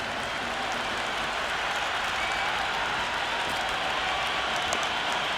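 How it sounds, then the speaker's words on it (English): A simulated stadium crowd roars and applauds nonstop during an India versus Pakistan T20 World Cup match in the video game Cricket 26, a dense, even wash of cheering with no break. "The crowd is electric right now."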